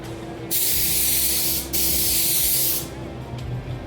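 Spray gun laying down metallic car paint over a base coat while matching a candy finish, two steady close hissing bursts of about a second each with a brief pause between, then a faint short puff.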